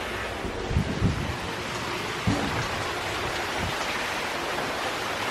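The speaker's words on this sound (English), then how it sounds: "It's just starting, like the bands, the yellow and red bands with heavy rain." Heavy rain from an outer band of Hurricane Hermine, a steady broadband hiss of rainfall with a few low gusty thumps, continuous and fairly quiet, no voices.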